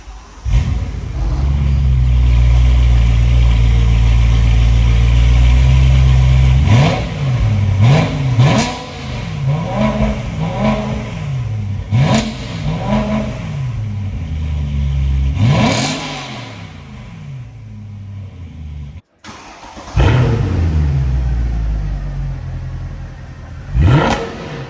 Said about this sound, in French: On va démarrer chacune des voitures pour que vous entendiez le son mélodieux.